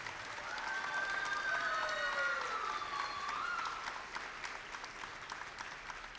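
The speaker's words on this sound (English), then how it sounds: "let's give everybody a round of applause for making this event happen." Crowd applause at the opening ceremonies of a district event, a sustained, fairly distant wash of clapping with a few cheers and voices in it, fading slightly toward the end.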